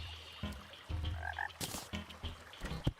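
Repeated frog croaks sound in a video game as frogs spawn, a run of short, moderately faint calls with scattered clicks and ambience, no talking.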